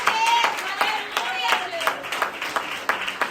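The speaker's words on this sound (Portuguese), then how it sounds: "Aplaude a Deus mais uma vez" Congregation in a church service clapping in praise to God, a steady run of claps with voices singing or calling out over it.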